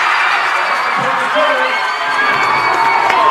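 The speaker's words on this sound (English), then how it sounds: "Listen to this crowd, Joe." A loud crowd roars and cheers continuously at a high school football game, with shouts and whoops rising over the din, close and energetic.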